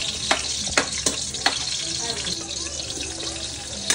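Onion and garlic sauté in hot oil in a pan, a steady close sizzle and crackle broken by a few sharp clicks of a stirring utensil, with a voice speaking faintly in the background.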